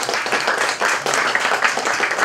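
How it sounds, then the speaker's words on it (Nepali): Audience applause at the Spiny Babbler International Film Festival 2022 honouring the jury, with a crowd clapping loudly and continuously at close range. "एकचोटी जोडदार ताली र ग्रुप फोटोसेसन गरौ"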